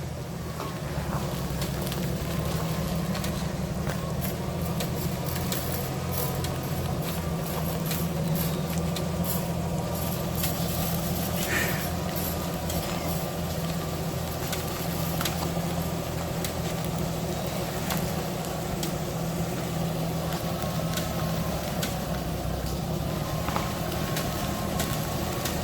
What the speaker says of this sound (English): That Tom driving the tractor, he seems to be a wizard at moving cars like this.